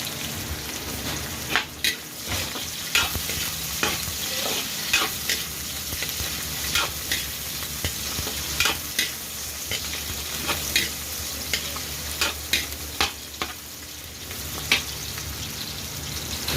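Onions, garlic and ginger sautéing in a pan for sweet and sour chicken, a steady bright sizzle throughout with repeated sharp clicks and scrapes of a spatula stirring at a quick, regular pace.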